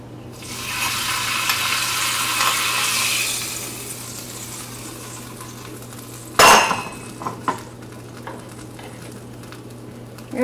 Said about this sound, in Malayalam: ഇതിലേക്ക് താളിച്ച് ചേർക്കാം.